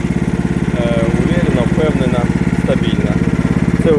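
A ToyTraktor mini loader's small engine idles with a steady, fast, pulsing chug, loud and close, while someone talks over it.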